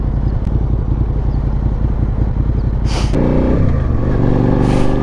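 A Suzuki SV650 motorcycle engine runs close and loud while riding, holding a steady throbbing drone. Around the midpoint it shifts into a changing, rising rev, with brief bursts of wind rush.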